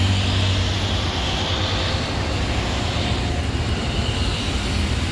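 A night bus on the road from Mumbai to Konkan drones loudly and continuously from inside the cabin, a heavy low engine rumble mixed with broadband road roar.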